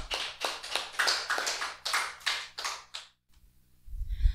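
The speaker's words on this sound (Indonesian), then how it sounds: "Tepuk tangan bagi Tuhan" Children clap their hands together at a Sunday school worship service, a quick run of about a dozen sharp, fairly loud claps that stop abruptly, followed by a brief low rumble.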